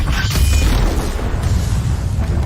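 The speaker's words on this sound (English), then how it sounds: "it feels like the explosion on this thing was early" A deep booming explosion sound effect in an edited action reel, a sustained low rumble with crackling debris filling the whole stretch at high volume.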